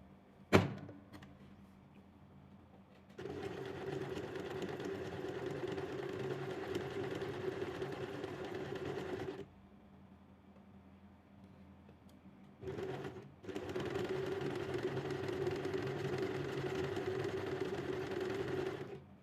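A sewing machine stitches a zigzag seam on pajama shorts fabric, running in two sustained bursts of steady mechanical whirring with a pause between them, each run preceded by a sharp click.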